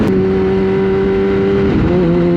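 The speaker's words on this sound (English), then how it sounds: "I did forget how loud this bike is." A Kawasaki ZX10-R sportbike engine running loud and close, a steady droning rumble that dips briefly as the revs shift, then settles back into a strong, even hum.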